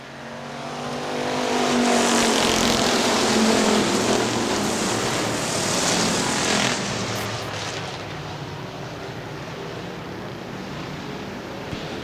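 Factory stock cars race at Hartford Speedway Park in Hartford, Michigan, engines roaring loudly as the pack passes close by, then the drone recedes and settles into a steady distant rumble around the track.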